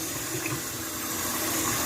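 Water draining from a pot of cooked shrimp, a dense, continuous close rush of pouring water with no pauses.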